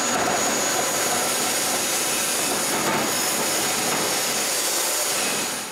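A store-bought bandsaw fitted with a brand-new blade cuts through a log, giving off a steady, loud, broadband whirring roar that holds evenly for several seconds without speech.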